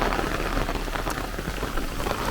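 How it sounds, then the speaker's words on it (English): Heavy downpour during a thunderstorm squall line in Brooklyn, New York, a dense, steady hiss of rain pounding surfaces close by, constant and loud with no pauses. "it is raining quite heavily"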